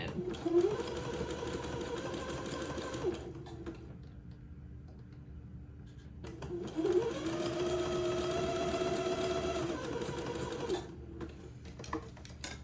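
A sewing machine zigzag stitching lace and entredeaux on a baby daygown, running in two sustained whirring, buzzing bursts separated by a brief pause, close and fairly loud.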